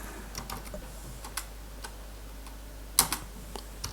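Computer keyboard typing during game-engine coding in Unreal Engine 4: sparse, irregular light key clicks, with one sharper cluster near the middle and a few taps toward the end, heard alone over faint steady hum.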